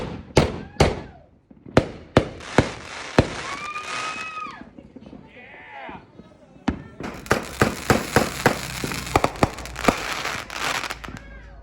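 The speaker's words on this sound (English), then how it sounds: "it was just a firework." Fireworks go off in a quick series of sharp bangs and crackling pops, some close and loud, others farther off, with a whistling rise midway and brief voices between the bursts.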